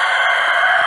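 A chicken crowing, a single loud sustained cry held steadily through the whole brief moment, close and alone.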